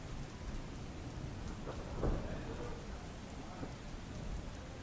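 Heavy rain pours down in a dense, steady roar over Jamnagar city after a full day of rain, with a low rumble of thunder swelling briefly partway through.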